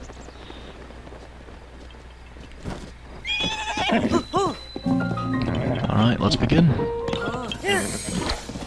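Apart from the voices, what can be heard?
horses neighing and galloping in Breath of the Wild video game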